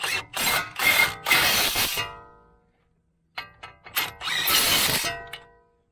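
An 18 mm socket wrench tightens a brake caliper bolt on a 2020 Ford Edge Titanium, giving close, sharp ratcheting clicks in two bursts separated by a brief silence.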